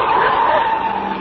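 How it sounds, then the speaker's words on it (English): A car's tires skid in a loud, sustained screech with a wavering high squeal, close and dominant throughout, used as a sound effect in a suspense radio drama. "The car twisted and swerved."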